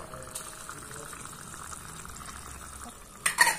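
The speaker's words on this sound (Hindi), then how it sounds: "सब्जी बनने की आवाज आ रही है" Faint, steady sizzling of a miniature vegetable curry cooking in a small clay pot, a soft crackle running throughout, ending with a brief louder clatter or stir near the end; no talking.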